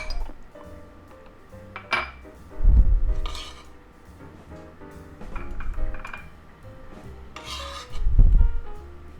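Food scraped and dropped into a bowl, with rasping rubs, clinks of utensils against dishware and a few dull thumps in separate bursts, no one speaking.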